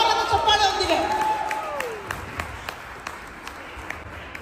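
A live audience gives loud applause to welcome a reel star onto a stand-up comedy stage, a crowd clapping that thins into scattered claps, with a voice speaking over the start.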